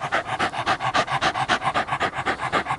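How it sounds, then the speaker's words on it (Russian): Dog panting fast and steadily in a regular, close-up rhythm of quick breaths, loud and alone. "Ты моя псинка."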